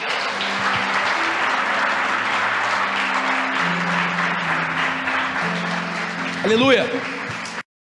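A church congregation applauds continuously in a dense, loud wash of clapping throughout, with a voice shouting a joyful exclamation near the end.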